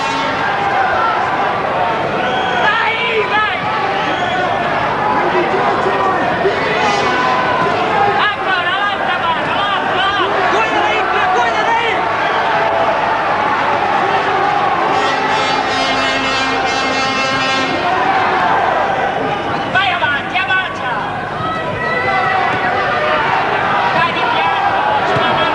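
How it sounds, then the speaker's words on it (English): A large boxing crowd at a fight's end roars and cheers steadily throughout, a dense continuous wall of noise with a commentator talking over it. "listen to the crowd. I mean, they're really enjoying this."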